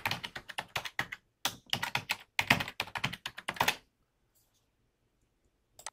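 Rapid keystrokes on a computer keyboard as a password is typed, a dense run of close clicks in short bursts for about four seconds before the room falls almost silent.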